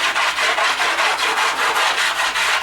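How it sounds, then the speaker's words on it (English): The side of a stick of chalk is rubbed back and forth over a cured chalkboard surface in a fast, steady scrubbing rhythm, loud and close, a continuous dry rasping with no pauses or talking. "just by using the side of it, you're going to condition this just by rubbing it all over the surface"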